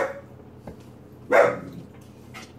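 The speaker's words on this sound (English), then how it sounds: "I'm sorry for the dog barking" A single dog bark bursts out partway through, near and fairly loud, over a low background hum in a home kitchen where a steak is being seared.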